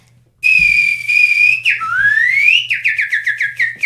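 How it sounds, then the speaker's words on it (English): A man whistles loudly and close up: a long steady held note, then a rising slide, then a quick series of short chirping descending notes, with no talking. "I'm probably one of the best whistlers that you probably ever seen"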